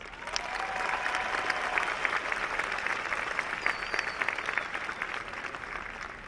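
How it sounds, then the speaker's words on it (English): Audience applause at a university honors convocation, a steady, dense wash of clapping from a large crowd that holds at an even level throughout. "Big round of applause for that."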